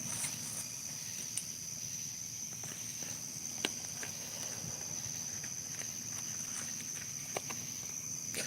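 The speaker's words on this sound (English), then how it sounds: "you hear the crickets" Steady high cricket chirping runs throughout, faint and continuous outdoors on a porch at night in Tennessee, with a few soft knocks and clicks scattered over it.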